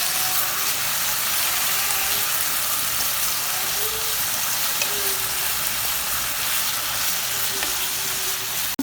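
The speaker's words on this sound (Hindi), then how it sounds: "चिकन को हम तब तक भूनेंगे जब तक इसका कलर चेंज नहीं हो जाता" Chicken pieces frying in a pan for restaurant-style Chinese chicken fried rice, giving a steady, close sizzle with light stirring that holds evenly throughout, with no voices.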